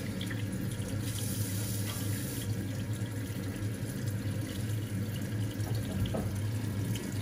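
Hot water gushes steadily from a tap in a house, a continuous loud broadband rush with no pauses and no talking.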